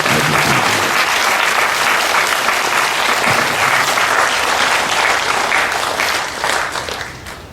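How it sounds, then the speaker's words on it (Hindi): Loud, sustained applause from a large crowd, steady clapping throughout that tapers off slightly at the end. "हम तालियां बजाएंगे हाइएस्ट योग के लिए।"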